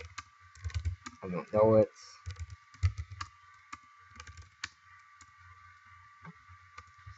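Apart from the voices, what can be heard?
typing on a computer keyboard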